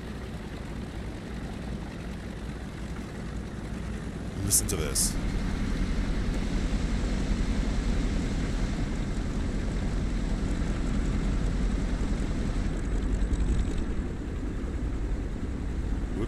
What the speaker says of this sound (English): because you need to hear these engines